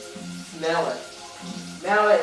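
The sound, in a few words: onions and bacon sizzling in pot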